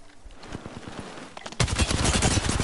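Gunfire in the battle royale game Apex Legends: scattered distant shots give way to a loud, rapid burst of automatic fire up close.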